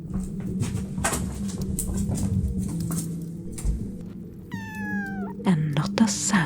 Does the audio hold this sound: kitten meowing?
yes